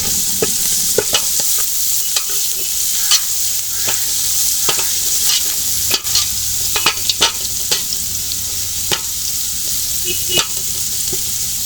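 Garlic sizzles steadily in hot oil in a pot while being stirred, with frequent scraping clicks from the spoon against the pan, cooked at home for biryani.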